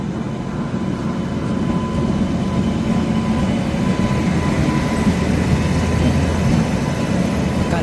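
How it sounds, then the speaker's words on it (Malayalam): The Madgaon–Lokmanya Tilak Terminus express rolls in, producing a continuous heavy rail rumble with wheel clatter that stays loud and close throughout. "മഡ്ഗാവ് ലോക്മാന്യത്തിലെ ടെർമിനൽസ് എക്സ്പ്രസ് വന്നുകൊണ്ടിരിക്കുകയാണ് കേട്ടോ"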